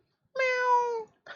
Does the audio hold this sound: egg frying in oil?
no